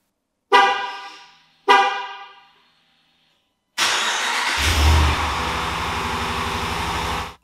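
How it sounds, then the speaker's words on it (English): A black 2019 Ram 1500 pickup starting by remote, with two loud, sharp horn honks separated by a pause, then the engine cranking and catching into a steady close idle. "Ask Ram to start my truck."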